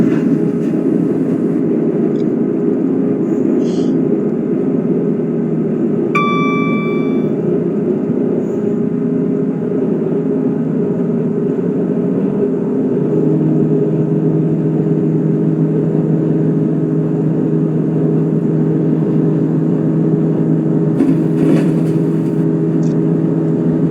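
Class 158 diesel multiple unit accelerating in the OpenBVE train simulator, a continuous loud engine drone with steady low harmonics that shift to a deeper note partway through, plus a brief beep and a short click.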